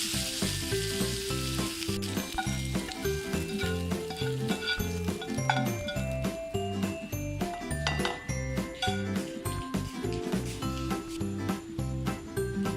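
Vegetables sauté in a hot pan for cutlets with a loud, continuous sizzle, broken by occasional light clinks and stirring scrapes.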